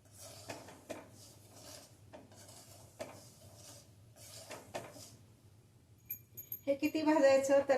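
Dry salt, four tablespoons for a pickle, being roasted in a pan over a gas flame, with a spoon scraping and clinking against the metal in spaced strokes, then a quicker burst of rattling stirring near the end; a voice talks over it.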